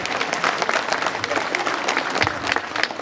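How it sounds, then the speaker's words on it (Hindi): Dense, steady applause from an audience at a jubilee celebration for Ursuline Sisters in Gumla, continuous crowd clapping filling the whole stretch with scattered voices mixed in. "एक बार जोरदार तालियां बजाएंगे"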